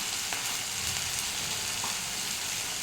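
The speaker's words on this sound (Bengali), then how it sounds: "এবার আবার কষে গেছে মশলা" Ground turmeric, cumin and coriander sizzle steadily in hot oil in a pan while being fried for chana masala, a close, even crackle with occasional soft stirring.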